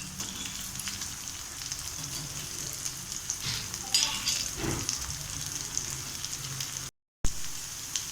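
Peanut snack frying and sizzling in a pan, a steady close hiss with a few stirring scrapes midway and a brief dropout near the end.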